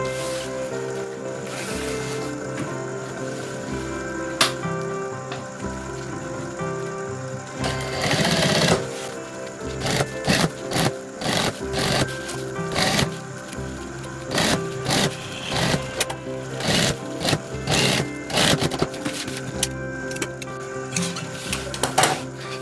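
A sewing machine stitches fabric for a trekking bag in repeated short bursts of rapid clatter, with pauses between runs and some handling noise, close and loud.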